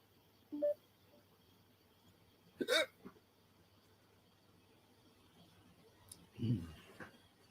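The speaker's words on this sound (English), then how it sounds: "Had a hiccup." A man's hiccups, a few brief, close, abrupt gulping spasms spaced apart by several seconds over a quiet room background.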